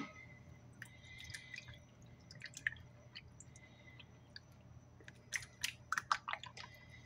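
Quiet drips and wet patters of water falling as soaked summer fruit is shaken out, in scattered bursts that cluster more densely toward the end over a low steady hum.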